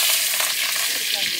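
Cumin and mustard seeds crackle and sizzle loudly in hot oil, a tempering for eggplant bharit, as a dense, steady hiss close by with no talking.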